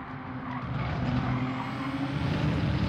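Race car cornering wide at Brands Hatch in Gran Turismo 7, a steady engine drone with tyre scrub and a faint squealing tone, holding loud and even throughout.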